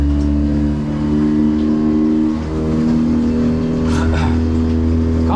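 A small kicker outboard motor on a Hewescraft Sportsman boat runs at a steady low drone, a constant close engine hum with slight swells in pitch and no talk over it.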